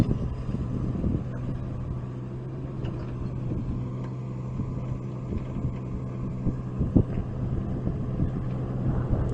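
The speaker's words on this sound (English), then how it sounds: "That's all you're going to be able to hear in the videos is just wind." Wind blowing hard down in a valley near a forest fire area, a continuous low rumbling buffet with gusty swells and microphone wind noise, no voices.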